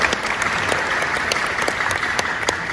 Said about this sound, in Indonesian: Tepuk tangan sekali lagi untuk beliau.